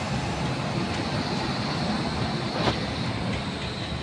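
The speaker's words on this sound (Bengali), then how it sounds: "তো ট্রেনে উঠে গেছি, ছেড়ে দিয়েছে ট্রেন, স্টেশন থেকেই যাচ্ছি" Train pulling out of a station and rolling onward, heard from inside an empty carriage as a steady, loud broadband rumble with a faint clank near the middle.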